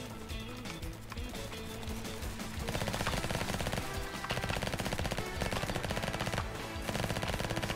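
A minigun in the video game Flag Wars fires in a dense, continuous rattling stream that grows louder and thicker partway through. Steady background music runs underneath throughout.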